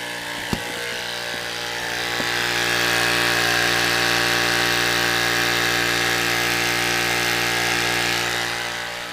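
A 12 volt pump inflates a motorcycle tire, a steady mechanical drone with a click at the start, running continuously and fairly loud with no talking.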